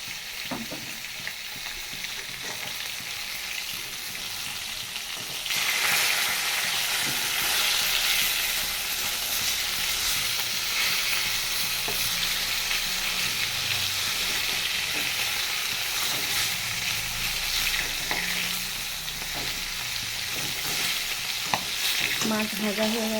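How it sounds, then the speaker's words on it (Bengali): Parshe fish fry in a pan with a steady hissing sizzle that swells louder after a few seconds and then stays constant, with occasional stirring clinks and no talk. "মাছগুলো ভেজে নিই"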